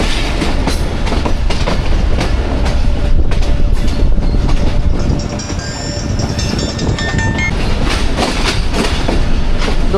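Jaffar Express train rolling into Rawalpindi railway station, a steady loud rumble of wheels and carriages with clickety-clack over the rails, brief higher squeal tones partway through, continuous for the whole stretch without speech.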